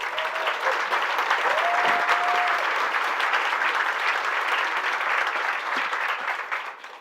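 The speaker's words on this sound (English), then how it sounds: "So give yourselves a big round of applause." Loud, sustained applause from a large audience at a celebration event, steady clapping for about seven seconds with a few faint whistles, tapering off at the end.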